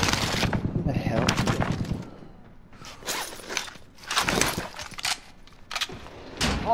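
Gunfire bursts from a multiplayer shooter match fought across a prison rooftop, sharp volleys and rattling shots in loud clusters with pauses between, plus a few footstep-like thuds.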